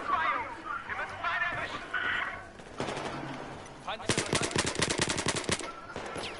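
Rapid machine-gun bursts from a Battlefield 4 squad deathmatch session ring out loud and close, dense and sustained over the second half, with scattered shots and speech earlier.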